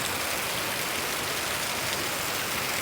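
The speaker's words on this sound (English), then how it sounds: "every downpour, every rain, wetting the ground, preparing the ground for us." Steady rain, the first of the season, falls on open ground in a dense, even hiss that stays constant and close throughout, with no voices.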